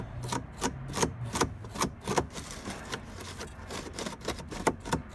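Steel wool scrubs corrosion off the 12V auxiliary battery terminal of a 2010–2015 Toyota Prius, giving quick, irregular rasping strokes, close and dry, with no talk.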